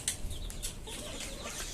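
A native Bangladeshi hen in a breeding cage clucks close by, short bursts over a steady low rustle and background noise.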